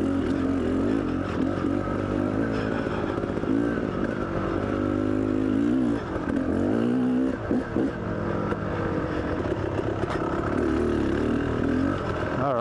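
Off-road dirt bikes, among them a Honda CRF 150, ride a trail with a continuous loud engine drone that rises and falls as the throttle changes, close up and steady for the whole stretch, with no talking.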